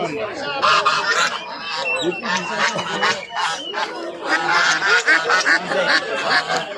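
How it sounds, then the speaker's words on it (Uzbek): Geese and ducklings at a busy poultry market, honking and quacking in dense bursts through most of the stretch, close by and loud, mixed with people talking. "O'rdakchalar, g'ozlar."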